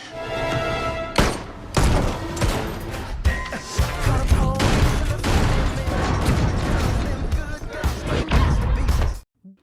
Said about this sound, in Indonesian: Baku hantam dan baku tembak yang epik pun terjadi.